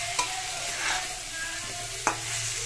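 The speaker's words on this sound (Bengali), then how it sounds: "এইভাবে আমি আর একটু কষিয়ে নিই" Spices and vegetables sautéing in a pan, with a soft continuous sizzle and occasional scrape and clack of a spoon stirring, close by with no talking.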